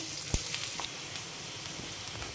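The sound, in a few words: cut onions and cumin frying in a pan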